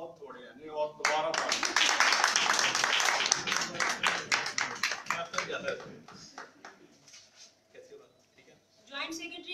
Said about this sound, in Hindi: फातिमा के लिए तालियां बहुत थोड़ी हैं जी